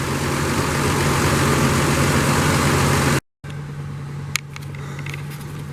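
A Chevrolet Impala's engine runs steadily with a loud, broad rumble and low hum, cuts out briefly, then continues at a lower level with a few sharp knocks and clatters as the car is moved.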